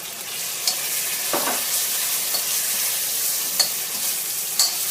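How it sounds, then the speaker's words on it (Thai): Catfish stir-fries in a pan for a dish cooked with fermented fish and herbs, making a loud, constant sizzle broken by a few light scraping stirs against the pan. "ผัดปลาดุกก่อนนะคะ"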